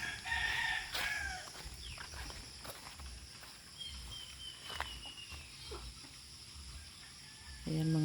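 Chickens and turkeys on a farm cluck and call, with a rooster crowing briefly; the birds sound moderately close against a soft outdoor background, with a few footsteps.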